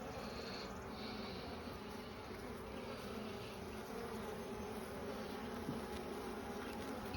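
Honey bees buzzing around an open hive during an inspection, a dense continuous hum of many bees close by, steady and fairly quiet, with an occasional single bee droning nearer and no talking.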